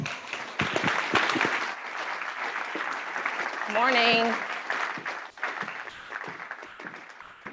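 An audience applauds as a speaker is introduced, a steady wash of clapping under which a voice briefly speaks a greeting over the microphone.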